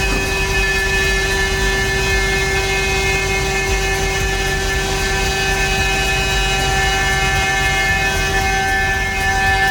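A CNC machine runs loudly and continuously in a car workshop, a steady mechanical whine with sustained high tones over a constant rumble, close by and unbroken.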